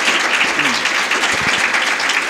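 Audience applauding Elsa at a literary talk, dense steady clapping throughout the whole clip, loud and close, with a voice briefly audible underneath.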